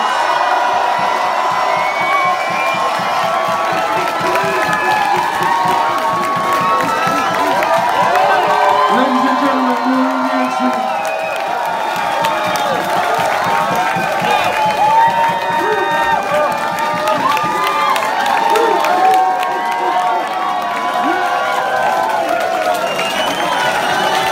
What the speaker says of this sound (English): clap them as loudly as possible, whoop and holler for Dilla's mum, Ma Dukes in the house.